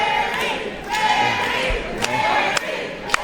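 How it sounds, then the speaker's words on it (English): Wrestling crowd at a CCW Clash 34 live show roaring and chanting, a sustained indoor din with a few sharp claps or thuds breaking through. "The crowd appears to think that Larry was the winner"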